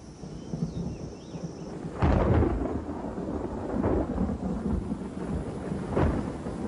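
Thunderstorm rumbling over a limestone cave, with low continuous rumble and rain wash, a loud thunder crack near two seconds and fainter rolls after, no voices.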